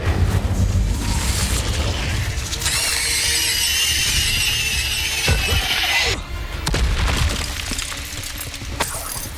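An Incendio fire spell in Hogwarts Legacy erupts in a loud, dense rush of crackling, roaring flame and rumbling impacts, sustained for several seconds with a brief dip before flaring again, close and dominant.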